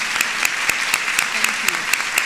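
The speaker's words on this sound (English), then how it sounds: "I'd like to ask them to stand as well, so we can give them a round of applause." Round of applause from an audience honoring senior enlisted military advisors and their wives, with loud individual claps standing out sharply over a continuous crowd clapping.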